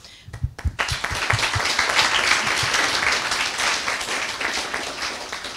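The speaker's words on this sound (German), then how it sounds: "da bitte ich gleich um einen kleinen Applaus" An audience at a Jugend hackt closing presentation in Halle breaks into applause after a few separate claps, building into a steady, full round of clapping that carries on to the end.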